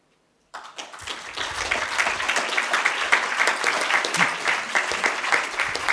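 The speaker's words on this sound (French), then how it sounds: "le docteur Pascal Fabre mérite 2 fois nos applaudissements" After a medical talk on euthanasia, a hall audience breaks into applause that starts abruptly from silence and swells into loud, sustained, dense clapping that continues to the end.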